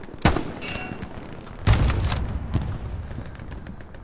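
A sniper rifle shot in the WWII shooter Hell Let Loose cracks sharply, followed by a second loud report and a fainter third, amid distant battlefield gunfire.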